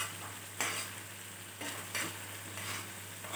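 Garlic and red chili chutney cooks gently on a low flame, a soft continuous sizzle broken by a few louder scraping stirs of the spoon in the pan, with no talking.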